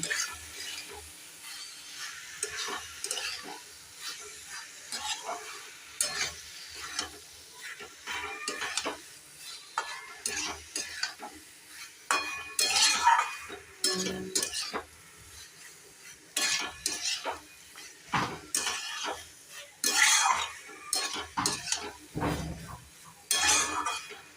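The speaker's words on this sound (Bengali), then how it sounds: "এরপর আমি এর মধ্যে দিয়ে দেবো বয়েল করে রাখা ম্যাকরানি। এটা আমি এবার ভালো করে মিক্স করে নেব।" Boiled macaroni being stirred through masala in a pan, with soft scraping, clinks of a spoon against the pan and a light sizzle in irregular bursts, close by and moderately quiet, with no talking.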